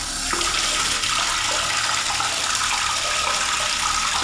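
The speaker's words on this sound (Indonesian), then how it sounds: "tiba-tiba Dewi mendengar keran air di dalam kamar mandi" Bathroom water tap running steadily, a continuous broadband hiss of flowing water at a fairly close distance, used as a sound effect in a spoken horror story, with no talk over it.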